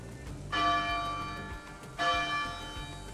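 An alarm bell in the ARK video game rings twice, each strike a loud, clear metallic toll that rings on and slowly decays before the next, with no talking.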